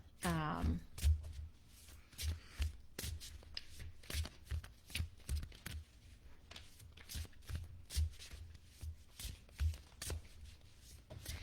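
A tarot deck shuffled by hand in a steady run of quick riffles and soft card taps, close and moderately loud, with brief talk at the very start.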